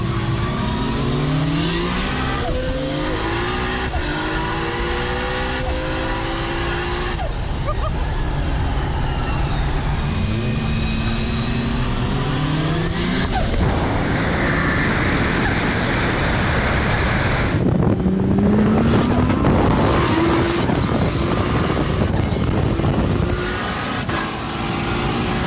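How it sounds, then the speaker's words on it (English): 2017 Lamborghini Huracan two-wheel drive engine revving and driving, loud with rising and falling gear sweeps and heavy road and wind roar, with a voice talking over it at times. "we're in a 2017 Lamborghini Huracan 2-wheel drive"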